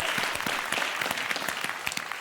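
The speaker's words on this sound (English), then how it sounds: "Round of applause, well done, Joe." Brief burst of studio audience applause on the 8 Out Of 10 Cats Does Countdown game show, steady, close clapping from many hands throughout.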